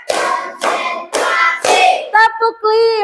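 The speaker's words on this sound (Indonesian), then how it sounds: "Kita tepuk dulu yuk." Hands clap in a steady counted rhythm during a classroom counting game, four sharp claps in a row followed by a short sung or spoken vocal phrase.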